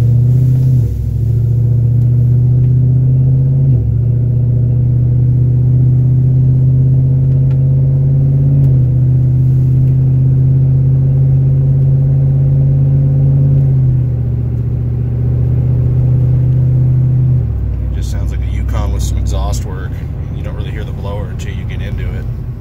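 A GMC Denali with an LSA supercharger swap drives and accelerates from a stop, its engine a loud, steady low rumble that rises and falls with throttle before a rougher burst near the end; a voice talks over it.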